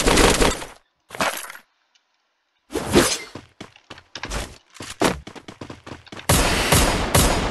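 Gunfire from the mobile battle-royale game Free Fire: loud bursts of rapid automatic shots in clusters separated by brief silences, ending in a sustained heavy volley.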